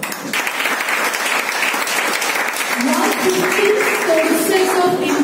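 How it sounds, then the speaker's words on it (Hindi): An audience at a financial freedom seminar in Vapi breaks into loud, sustained applause. The clapping fills the whole stretch, and a voice and a held musical tone rise over it toward the end. "ताली होनी चाहिए।"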